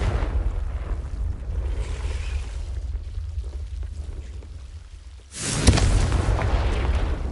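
In Hogwarts Legacy, a low rumbling blast from the Confringo spell rolls beneath a steady windy, wave-like ambience, followed by a sudden louder surge of crackling noise that carries on to the end.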